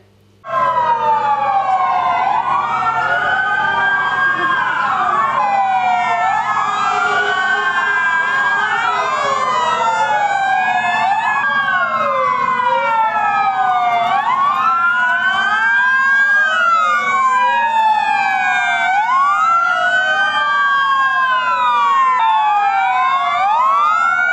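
Several fire engine sirens wailing together in a fire brigade convoy during a fire service week parade, overlapping rising and falling tones, loud and continuous.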